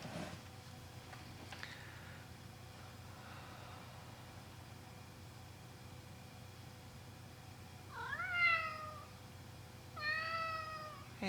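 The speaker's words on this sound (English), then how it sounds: "Oh, cat." A cat meows twice, a couple of seconds apart, each call fairly faint and a little distant over a steady low hum of room noise.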